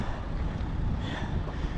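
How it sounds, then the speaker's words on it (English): Steady outdoor wind gusting near the water, a continuous broadband rush buffeting the microphone with a low rumble, no voices. "Good thing the wind is coming from that side and not from the water side."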